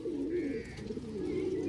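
A single pigeon coos nearby in a low, soft, rolling burst.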